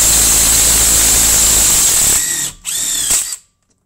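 Power tool, likely an impact driver or drill, loosening a Torx bolt on a car shock absorber of an Opel Corsa 3-cylinder, a loud close whine that runs continuously, then cuts out in two short bursts and stops.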